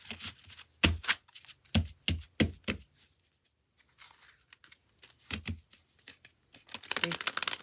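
Rider-Waite tarot deck being shuffled, several crisp riffling bursts of card flutter close up, a pause, then a denser stretch of rapid shuffling at the end, with faint talk in between.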